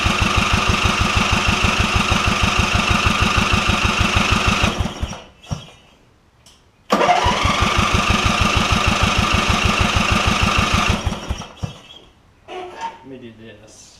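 The Briggs engine on a Craftsman lawn tractor with carburetor trouble chugs at a steady, rapid idle close by, then dies out. It catches again after a short pause, runs steadily a few more seconds and stalls once more.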